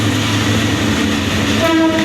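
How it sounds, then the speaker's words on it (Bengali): Bangladesh Railway's Tista Express arriving, a loud steady rumble of rolling stock with a sustained horn tone rising near the end, close by and with no voices. "একটা ট্রেন আসছে।"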